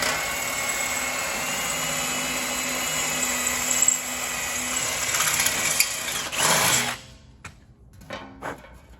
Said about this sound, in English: Drill from the bottom up.